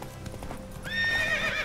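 Horse in The Witcher 3 video game: soft hoofbeats clopping at first, then a clear rising whinny near the end, moderately quiet with no talking.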